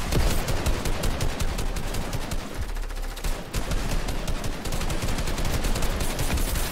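Rapid automatic gunfire from a competitive battle-royale match at a Dreamhack semi-final, dense continuous bursts at full loudness with a brief dip around the middle, no speech.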